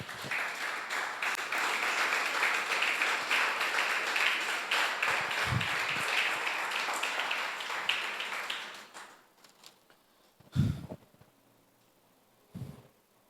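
A church congregation applauds together in a long, sustained wash of clapping that ends abruptly, leaving faint room noise and a couple of isolated thumps.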